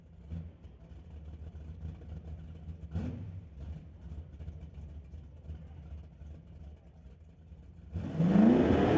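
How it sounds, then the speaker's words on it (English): A 1971 Chevelle drag car at an NHRA Summit ET series race idles with a low, rumbling engine under faint background noise, then bursts into a loud, roaring burnout near the end. "So Jason Field now completes the burnout, backs up his 71 Chevelle."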